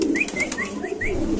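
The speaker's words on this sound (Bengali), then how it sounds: "এখানে আছে একটা রেসার কবুতর আপনি দেখতে পাচ্ছেন" Racer pigeons at a pigeon market, several short chirping calls and soft coos repeating in quick succession up close, with faint background murmur.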